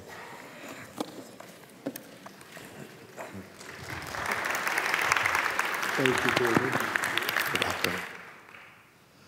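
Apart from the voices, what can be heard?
audience applause for a speaker at a Shabbat service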